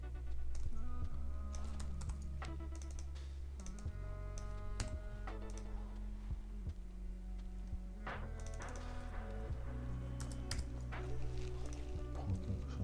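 Rapid typing on a computer keyboard, close and clear, with bursts of crisp key clicks and occasional heavier keystrokes over a low steady hum.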